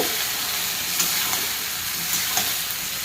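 Ground ginger, garlic, cumin and onion paste fry in a pan with cauliflower and potatoes, a steady broad sizzle with occasional soft stirring scrapes, close and even throughout.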